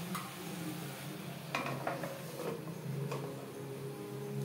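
A fish curry with sponge gourd, cooked in little oil without spices, is stirred in a pan: scattered scrapes and clinks of the utensil over a low, constant sizzle, with no talking.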